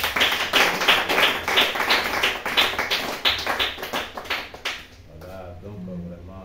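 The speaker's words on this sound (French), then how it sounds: "On acclame le Seigneur Jésus" A church congregation applauds the Lord Jesus with loud, continuous clapping from many hands close by, which fades out near the end as a voice starts speaking.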